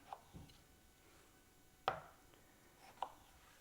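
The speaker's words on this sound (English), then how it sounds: "So what I'm going to do here is quarter all of my tomatoes." A knife cuts through tomatoes on a cutting board, three or four sparse, soft chops spaced irregularly in a quiet kitchen.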